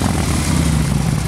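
A 2007 Harley-Davidson Street Glide FLHX motorcycle engine running, a loud, steady, dense low rumble heard up close for a brief moment with no voices.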